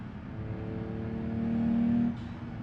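An ETK car's engine in the BeamNG driving game revs up steadily as it accelerates, its tone rising and swelling for a moment before easing off; no one talks.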